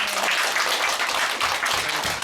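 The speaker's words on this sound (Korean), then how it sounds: "우리 다 같이 박수로 이 시간 마치도록 하겠습니다." Audience applause closing a youth and unification experts' joint discussion forum, a dense, steady wash of many hands clapping at close range, sustained throughout with no talk over it.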